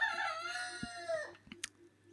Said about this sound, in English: So I apologize for my roosters. I've got more than one at the moment.